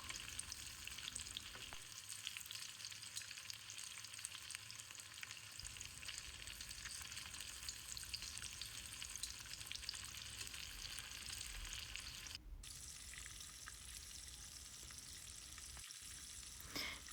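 Cheese sticks fry in hot oil with a steady, dense sizzle and crackle that runs without a break, close and fairly even, with a short dip and a faint clunk near the end.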